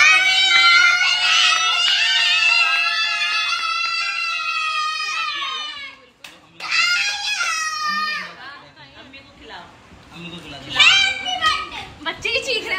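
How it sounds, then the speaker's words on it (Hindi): Children at a birthday party shriek and scream loudly in long, piercing bursts, with brief pauses and excited chatter between the outbursts, close by. "बच्चे ही चीख रहे हैं"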